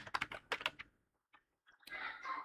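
Quick keystrokes on a computer keyboard as a name is typed, a short burst of clicks, then a pause with one or two isolated taps, then another run of typing, close and clear.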